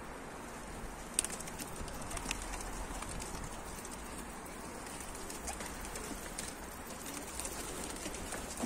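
Pigeons in a loft or flock, soft low cooing under steady outdoor hiss, with faint flutters and wingbeats as a bird flies in, all fairly distant and quiet.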